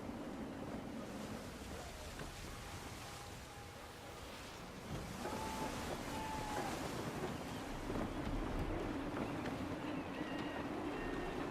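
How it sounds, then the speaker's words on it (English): Steady wind roars over open sea in Assassin's Creed 3, with surf washing and a sailing ship creaking; a continuous, fairly loud rush that swells slightly louder after the midpoint, with faint tonal whistles, no talk. "Gusty winds can be difficult to manage."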